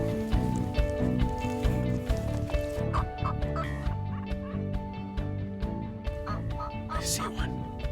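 Wild turkeys gobbling during a spring hunt in Ontario, several loud repeated gobbles mixed with clucks and other bird calls close by, with a voice in the background.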